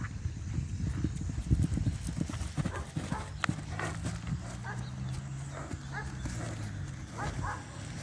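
A gentle gateado horse walks over the ground with soft, irregular hoof clip-clops, close by, while people talk and a dog barks faintly in the background.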